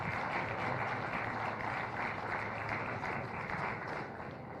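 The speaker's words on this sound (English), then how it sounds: "All three of these deserve a big old round of applause." Steady, faint applause from a crowd at a beef cattle show, following a heifer showmanship class and holding evenly throughout with little talk.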